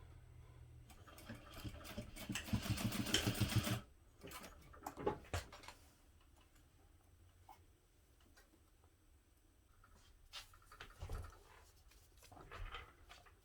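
A sewing machine basts a strap connector in place with a quarter-inch seam allowance, a quiet close burst of rapid stitching followed by faint clicks and handling of fabric.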